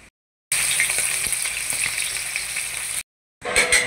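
Fish frying in hot oil sizzles and crackles, a loud, steady hiss broken by brief silences, with no one talking.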